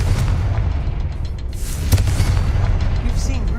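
A deep booming blast from the Confringo spell in Hogwarts Legacy, a loud low rumble with a sharp burst near the middle, heard alone without talk.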